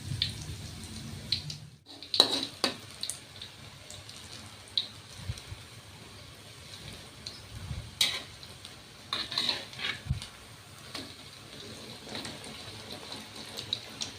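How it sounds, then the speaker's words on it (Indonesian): Beaten eggs fry in hot oil for a crispy omelette, giving a faint, steady crackle and sizzle with scattered pops and a few louder clatters. "Kalau minyaknya sudah panas, kita masukkan telur yang sudah dikocok tadi."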